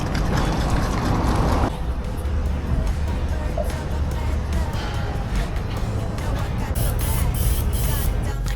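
A final coat of paint is sprayed onto a boat's port hull, a steady close hiss of spray running throughout in bursts, with a brief change at the start and a brighter rush near the end.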